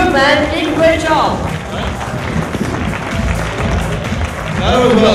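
Audience applause at the capture-the-flag winners announcement of a security conference, loud and steady throughout, with cheers and a voice talking over it.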